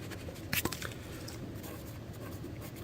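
A pen writing down numbers on paper, a brief faint scratch over a steady background hiss and hum.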